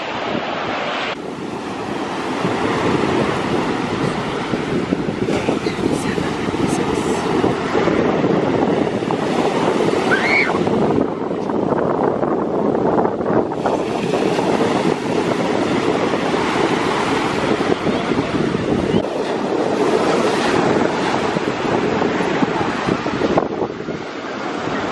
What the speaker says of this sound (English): Enjoy some beach footage, and I hope it gives you some serenity like you were here at the beach as well.